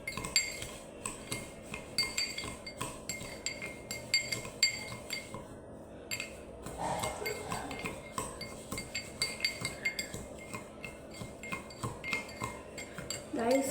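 A spoon stirring sugar into a soda lime drink in a glass gives repeated quick metallic clinks against the glass, rapid and fairly faint, with a short pause partway through.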